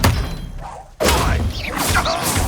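Spell impact from the Expelliarmus charm in Hogwarts Legacy: a loud, sharp magical thud and crash lands about a second in, followed by a trailing swirl of crackling, whooshing effects.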